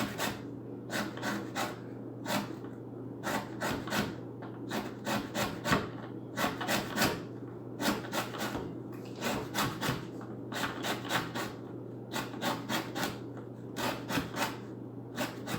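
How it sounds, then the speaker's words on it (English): A whole lemon is zested on a handheld zester, giving repeated short dry rasping strokes in quick bursts, close and fairly loud over a steady low background hum, with no talking. "I like to zest the whole lemon because that means more lemon flavor."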